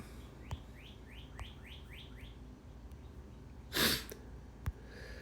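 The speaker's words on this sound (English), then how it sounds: "Birds are out, birds are ready." Birds chirp outdoors in a quick run of about six rising tweets, faint and somewhat distant, followed by a short burst of noise and a sharp click against quiet background hiss.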